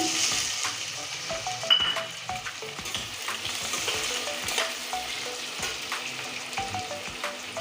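Chopped onions hit hot oil with garlic in a pan, sizzling steadily while a metal spoon scrapes and clinks against the pan in a repeating stirring rhythm, close and fairly loud.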